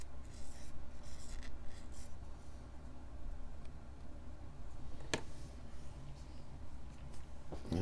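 Fine abrasive rasping of a 600 grit sanding stick against a plastic part from a 1/32 scale Hasegawa Focke-Wulf Fw190 A8 model kit, a steady close scratchy rubbing with one sharp click near the end.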